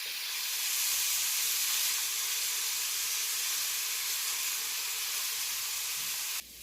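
Onions and green onions sizzle in a hot pan, giving a loud, continuous, steamy hiss that holds evenly close up, with no talking, and cuts off abruptly near the end.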